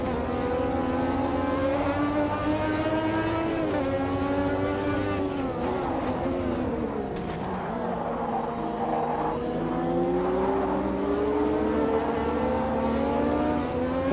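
Lotus 98 Formula 1 car in the Automobilista 2 racing game, its turbocharged engine droning steadily and loudly throughout, pitch rising and dipping with gear changes and throttle, with no talking.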